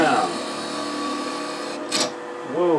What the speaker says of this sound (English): we're just going to come across that with a spindle gouge, clean up that rough edge